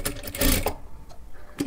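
A sewing machine stitches a blouse strip in short bursts of rapid mechanical chatter, a louder run followed by quieter pauses and a brief restart, close and alone without talk.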